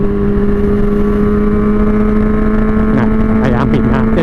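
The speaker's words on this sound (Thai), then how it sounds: "แปดพัน แปดพันเสียงแบบ เสียงโคตรสะใจอะ่ะ" A Honda CB400 Four motorcycle engine with an open air filter runs loud and steady at high revs, then several sharp throttle blips rise over it near the end.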